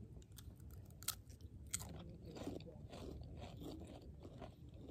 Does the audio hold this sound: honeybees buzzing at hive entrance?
no